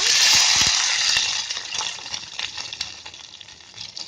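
Water poured into a hot pan of roasted gram-flour tempering for besan dhokla hisses and splashes loudly at first, then settles into a softer bubbling sizzle over about four seconds, close up with no voices.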